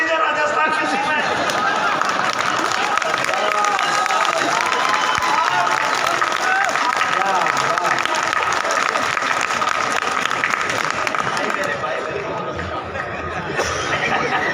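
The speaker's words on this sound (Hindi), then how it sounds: "अरे मजा तो आप लेना, ताली बजा के।" A large audience at a Hindi kavi sammelan poetry gathering in Ratlam claps loudly and continuously, with scattered cheers and laughter mixed into the dense, sustained applause.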